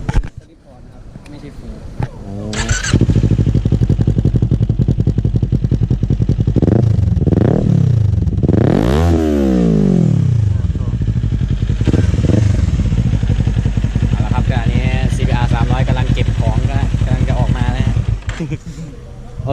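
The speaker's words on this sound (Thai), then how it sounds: "ขอฟังเสียงท่อแล้วกันครับ" A modified Ninja 400 motorcycle with a genuine Akrapovič exhaust idles loudly, then revs hard several times, rising and falling in sharp bursts before returning to a rumbling idle.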